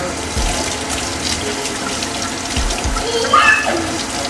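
Tap water runs into a kitchen sink to rinse pancake mix off a spoon, a steady close splashing stream with a faint voice under it.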